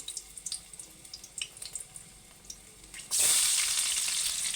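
Green chilli and vegetables hit hot oil, at first only faint scattered crackles and clinks, then a sudden loud, steady sizzle that keeps going, with no voices.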